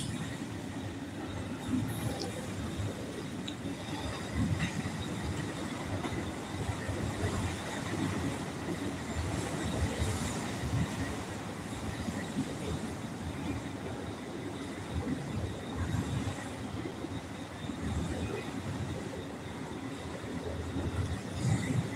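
A train rumbles steadily under a bridge in Providence, its wheels and cars clattering on the rails as a sustained, moderately distant roar lasting the whole stretch, with no talk.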